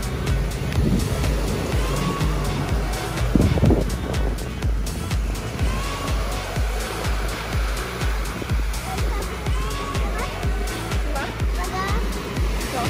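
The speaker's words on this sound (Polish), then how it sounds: "No i mamy morze." Sea waves wash and roar continuously in the background at Patong Beach, Phuket, a broad steady surf noise with some distant rumbling.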